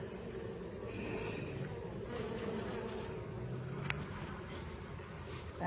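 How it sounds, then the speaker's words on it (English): Honeybees crowded on a hive frame during an inspection give off a continuous low, dense buzzing hum, close and steady but quiet, with faint handling noises and no talk. "So many bees on this frame though"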